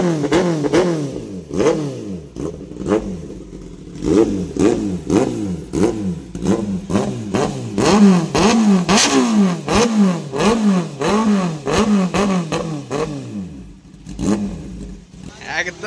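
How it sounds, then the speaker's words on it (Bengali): A Kawasaki Ninja ZX-10R sports bike engine is blipped again and again, each sharp rev rising and falling in quick succession for about fifteen seconds, loud and close with barely a pause between bursts. "বাইকের সাউন্ডটা শোনা যায় বলে শুধু।"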